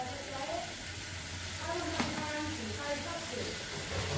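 Salted masala sautéing in a pan, a soft steady sizzle with faint stirring scrapes and a small clink near the middle, close and low in level throughout.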